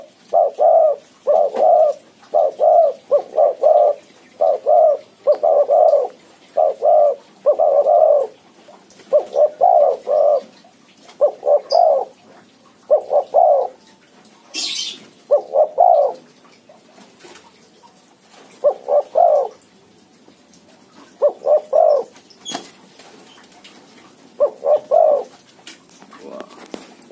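Spotted doves and white turtledoves coo in repeated rhythmic phrases of several soft notes, fairly close and clear, with pauses between bursts and a quiet outdoor background.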